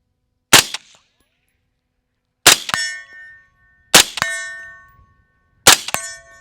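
Four gunshots at steel targets during a night-vision shooting session, each a sharp crack followed by a ringing metallic clang, spaced irregularly about one to two seconds apart, loud and clear against silence.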